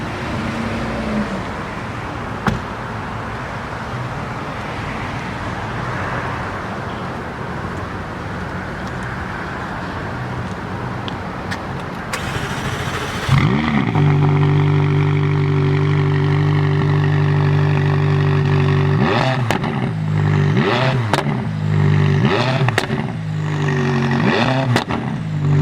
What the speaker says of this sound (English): You could hear that twin turbo V8 out back.